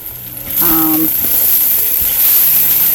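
Ground meat fries in a pan with a loud, steady sizzle close by, broken by a few soft stirring scrapes and clinks.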